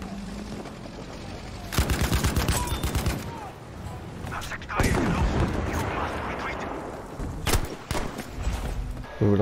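Madsen MG machine gun bursts in the video game Battlefield V, with several loud rapid-fire volleys separated by pauses. Battlefield ambience and distant gunfire fill the gaps, and a voice speaks briefly in between.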